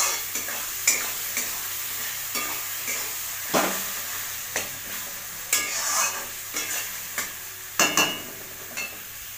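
Spice paste stir-fried (kosha) in a pan, a steady sizzle and frying hiss broken by repeated scraping and knocking of a spatula against the metal, close and fairly loud.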